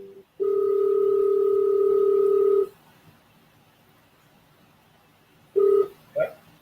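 A telephone line gives a long steady tone, then falls silent, and after a pause brief tones of a call being dialed sound, close and clear.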